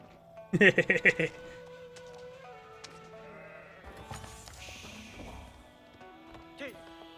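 A sheep bleats once, loud and wavering, in the game Age of Empires 4, then fades into soft game ambience with someone talking underneath.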